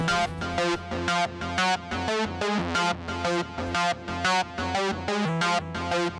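An EBM electronic dance track with sidechain compression, the full mix ducking in volume on each beat in a steady pulsing pattern, loud and continuous.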